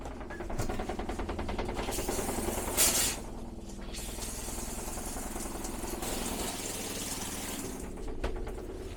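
Water runs steadily from the shower in a Jayco Eagle SLE 28BHU travel trailer during dewinterizing, a continuous close hiss and spatter with a low pump-like drone underneath and a brief louder gush near the start.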